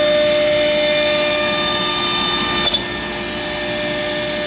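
AltMill CNC router milling a raised panel kitchen cabinet door, a steady whining tone with sustained spindle pitches and a continuous mechanical drone, plus a brief click near the end; no speech.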